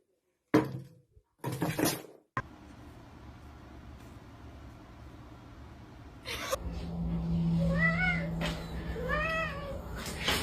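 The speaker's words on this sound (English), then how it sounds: "my cat has something to say." A house cat meows several times, a few rising and falling calls heard fairly close, after some earlier bumps and handling noises and over a low steady background hum.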